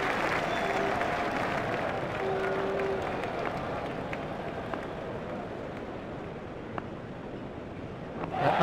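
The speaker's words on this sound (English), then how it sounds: "the crowd is giving them a warm welcome" Steady crowd applause and cheering in the Cricket 2005 PS2 cricket video game, a continuous broad wash of clapping that swells again at the very end.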